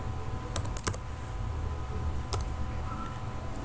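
Typing on a computer keyboard while working in Microsoft Project: a few quick, light key clicks in two short clusters over a steady low background hum.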